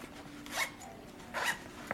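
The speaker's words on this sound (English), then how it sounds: "We have a zipper to zip." A clothing zipper is pulled in two quick, close, crisp rasping strokes about a second apart, followed by a brief small tug, in an otherwise quiet room.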